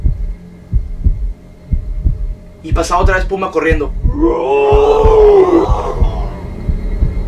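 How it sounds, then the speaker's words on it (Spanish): A heartbeat sound effect thumps in a steady, slow double-beat rhythm throughout, while someone speaks over it and a drawn-out wailing, moaning tone rises in the middle. "se empezaba a escuchar el latido de un corazón"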